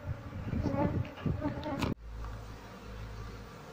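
A wild bee colony swarms outside its hive, a dense, close buzzing drone that cuts off abruptly partway through, leaving a quieter hum.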